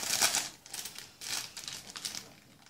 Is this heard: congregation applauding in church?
no